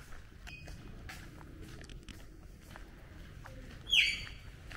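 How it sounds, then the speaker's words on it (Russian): Small birds chirp briefly amid quiet outdoor ambience on Koh Tao, Thailand, with soft footsteps and one louder bright call near the end. "Птички поют."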